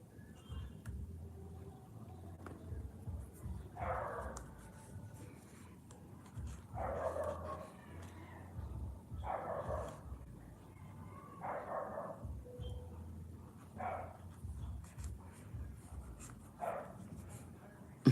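A wild, excitable dog barks in short repeated bursts at a steady pace over a low rumbling background, moderately loud and somewhat distant, with no talking.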